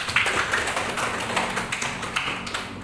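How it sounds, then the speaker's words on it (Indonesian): Schoolchildren in a classroom clap their hands together in a dense, steady burst of close taps lasting a few seconds, with no talking over it. "Tepuk tangan lagi."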